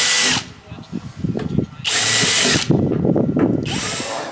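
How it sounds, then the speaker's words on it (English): A power drill with a 4mm bit bores rivet holes in a Land Rover Defender sliding window, in three loud, sustained bursts with quieter handling and scraping between them, close by. "go around with a 4mm bit and just go through my holes"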